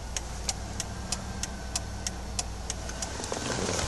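Hazard lights clicking in a 1998 Cadillac Seville STS with a 4.6 L Northstar V8, a steady, even run of sharp ticks about three per second, close by, over a low idling hum.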